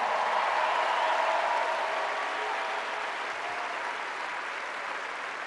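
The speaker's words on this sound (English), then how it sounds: "let's give another round of applause for the U.S. National Anthem singer" Sustained applause from a large audience at the 2019 Warrior Games after the U.S. national anthem, loud at first and easing slightly toward the end, with no voices standing out.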